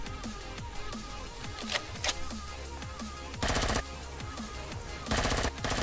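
Rapid automatic gunfire in the space survival game Empyrion: Galactic Survival as a turret is shot down, with repeated bursts and heavier loud blasts near the middle and end.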